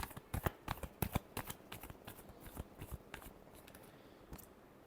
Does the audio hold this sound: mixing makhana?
no